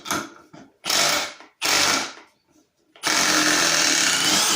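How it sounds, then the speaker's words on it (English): A Milwaukee 18V Fuel Surge impact driver works a heavy lag bolt in loud bursts, stopping twice before running steadily at the end. "Okay, for some reason it's not driving that lag bolt."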